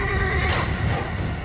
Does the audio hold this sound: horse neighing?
yes